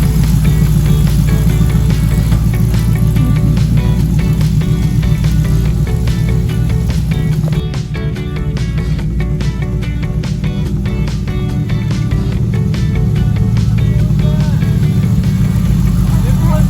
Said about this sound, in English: We drove the truck for the first time, super stoked.